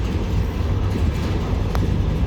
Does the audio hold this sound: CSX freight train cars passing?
yes